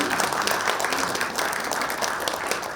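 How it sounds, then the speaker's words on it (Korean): Applause from the audience at a Korean high school's centennial and book-launch ceremony, a dense, steady wash of many hands clapping at once that fills the room at moderate loudness. "네, 힘찬 박수로"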